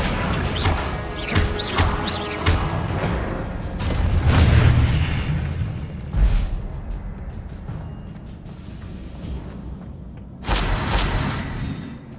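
Spell impacts and explosions in the Hogwarts Legacy game, including fire and blast spells: a series of loud booming crashes and whooshes in bursts, with quieter stretches between them and one strong final burst.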